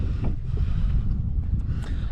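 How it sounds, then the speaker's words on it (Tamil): Strong wind buffets the microphone with a heavy low roar and gusty rushes, outdoors near water on Arittapatti hill, no talking. "பயங்கரமாக காற்றடிக்குது."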